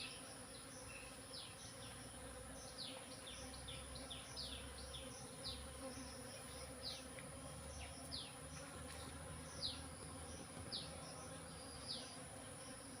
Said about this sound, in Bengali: পুরো মাছিতে ভরে গেছে আজকে পুরো বাগানটাতে।